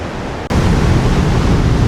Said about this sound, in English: Look at this waterfall, guys.